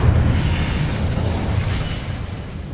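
The Incendio fire spell cast in the Hogwarts Legacy video game makes a loud, sustained, roaring blast with a heavy low rumble that stays strong and steady across the whole moment.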